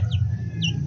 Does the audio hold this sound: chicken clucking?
yes